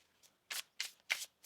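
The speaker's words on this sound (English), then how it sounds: "One more shuffle here." Tarot cards are shuffled by hand in four short, crisp riffling bursts separated by brief quiet gaps, close and fairly soft.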